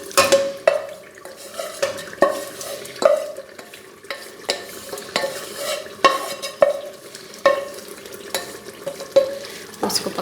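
Turnip paste being stirred into beef cooking in a pot, a utensil scraping and knocking against the pan in a steady repeated rhythm over a soft, continuous sizzle, close and clear with no talking.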